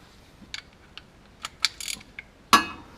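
Sparse metallic ratcheting clicks from a wrench snugging up the blade bolt on a Cub Cadet XT1 LT 46 mower, a few light ticks followed by a sharper, louder clack near the end, close up in a quiet space.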